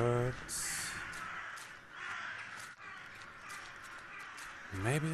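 Birds cawing in The Last Door video game, harsh repeated calls over a noisy, rustling game ambience, with brief voiced sounds at the start and end.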